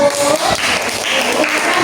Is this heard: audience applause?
yes